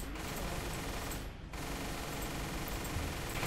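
Gunfire in the video game Orion: Prelude: a continuous, dense stream of rapid automatic fire roars without pause, briefly dipping once before resuming at full strength.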